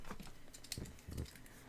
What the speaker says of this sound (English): Let me write those in really quick.